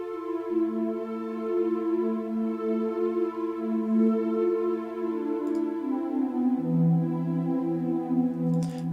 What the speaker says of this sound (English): The synth itself with the MIDI just sounds like this.